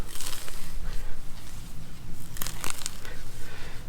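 A worn spade slicing into lawn turf and soil, repeated crunchy, tearing cuts with rustling thatch, close and loud in quick succession, no voices.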